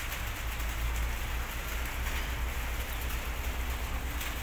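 Steady rain patters down in Tipas, Taguig, in a constant hiss, with a low rumble underneath and no voices.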